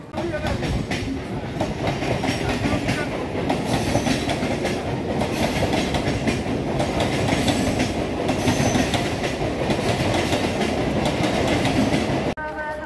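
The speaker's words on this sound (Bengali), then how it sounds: "এই কিন্তু ঢুকে গেছে আজকের আমাদের ট্রেন" A local train on the Kolkata to Digha line rolls into a station, loud and close, with continuous wheel rumble and rhythmic clickety-clack over the rails for a long stretch, with a faint squeal.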